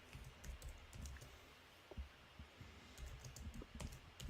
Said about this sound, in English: typing over there instead of responding to me